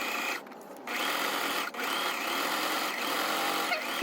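A sewing machine stitching a canvas-style tote bag runs steadily and close, a continuous whirring motor hum with brief dips where it pauses or slows between stitches.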